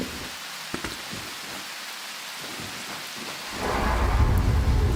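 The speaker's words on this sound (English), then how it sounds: "The lightning and thunder have a suitable delay there." Rain, lightning and thunder in the video game Prologue: Go Wayback: a steady hiss of rain with faint crackles, then a low rolling rumble of thunder that swells near the end, with no voices.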